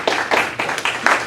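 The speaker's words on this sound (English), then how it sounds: "let's get a panel round of applause" A short burst of clapping from a small group, several quick patters of hand claps close by with no voices over them.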